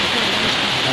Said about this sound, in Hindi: बारिश इतनी तेज गिर रही है, ठंड के साथ साथ बारिश